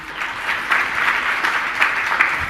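Applause from an audience at a spiritual discourse session, a continuous brisk clapping from many hands with a few louder individual claps, moderately loud and steady, no talk over it.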